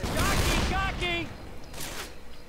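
Grenade launcher blasts in the zombie shooter Left 4 Dead 2, during the Swamp Fever campaign: a short burst of explosive noise under players' chatter, then a fainter bang near the end.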